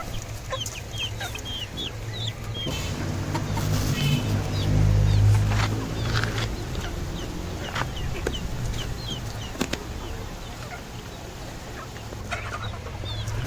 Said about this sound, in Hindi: इसमें से तो चूज़ों ने खाना शुरू कर दिया अंडे के छिलकों को